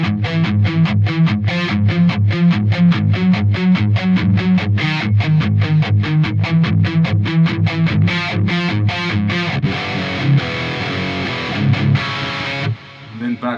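Soldano X88 guitar amp on a crunch tone played through an MXR Phase 95 phaser and delay, a loud rhythmic strummed riff with swirling, pitch-wavering repeats, then ringing chords fading into the delay tail.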